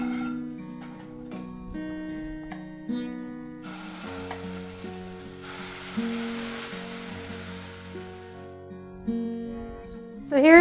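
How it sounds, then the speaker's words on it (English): Carrot and zucchini pancakes sizzle steadily in a hot pan, a bright frying hiss that swells midway, with music playing throughout. "Flip the pancake and let it cook a little more on the other side."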